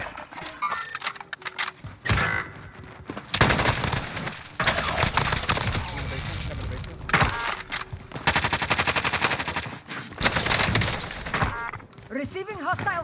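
Rapid automatic rifle fire from an AK-47 variant in a first-person shooter, loud bursts of gunfire in repeated clusters with short gaps, mixed with game effects and someone talking over the action.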